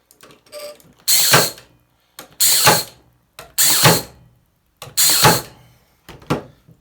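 A Parkside cordless nailer drives 25 mm staples into plywood on pine board, firing about five loud, separate mechanical bursts, each a clattering whir of roughly a second, with short quiet gaps between and no talking.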